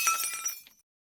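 A mirror shatters, a sharp burst of breaking glass followed by brief tinkling shards that fade out into silence within a second.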